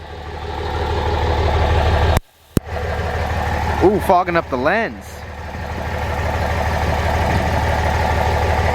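A stock Cummins diesel pickup truck, a dirty long-bed work truck, idles with a steady low rumble throughout, briefly cut out for a moment, while someone talks over it.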